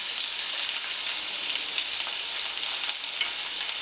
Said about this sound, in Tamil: எண்ணெய் காஞ்சிருச்சு நம்ம பூண்டு இஞ்சி போட்டுக்கலாம்